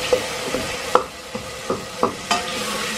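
Whole coriander and spices sizzling in a pan for an aloo gobi masala, with a series of scraping stirs, roughly one every half second, close and clear with no voices.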